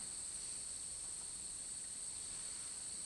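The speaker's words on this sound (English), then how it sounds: "But there is the sound of the crickets, isn't there" Crickets chirp in a steady, faint, continuous high trill at night through an open door, with a soft background hiss and no other sounds.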